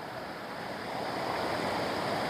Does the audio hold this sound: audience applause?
no